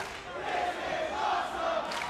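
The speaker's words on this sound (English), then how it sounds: "Listen to the crowd showing their" Crowd at a 2005 TNA wrestling event chanting together in a steady, sustained roar that swells and holds across the arena, with no commentary over it.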